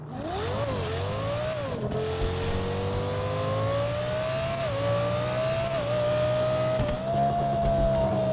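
Emperor Sheava, a Lexus LFA look-alike supercar in GTA 5, accelerating hard, its engine note climbing and shifting through gears in a loud, continuous rising whine with a faint tire squeal, no voices.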